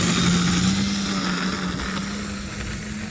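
An RC airplane makes a one-wheel takeoff. Its engine gives a loud, steady, buzzing drone with a constant pitch, heard close and alone for a few seconds.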